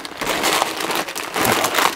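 Crinkling of a plastic bag holding Lego crane parts (Liebherr LTM1750 model), a steady close rustle and crackle lasting the whole moment with slight swells.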